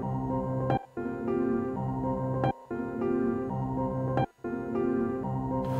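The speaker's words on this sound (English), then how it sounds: "a piano I recorded on my Korg Grand stage, I think, and I'm just chopping this up through the Morphogene" A piano recorded on a Korg Grand stage keyboard, chopped and replayed through a Morphogene module: sustained harmonic tones break off abruptly into short silences three times and restart, a looping, granular texture with no voices.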